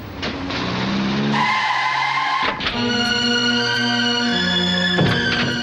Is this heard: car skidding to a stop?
yes